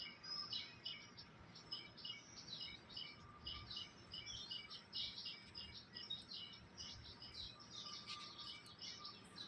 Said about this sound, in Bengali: এই যে দাঁড়িয়ে আছে আমাদের একটি দোয়েল পাখি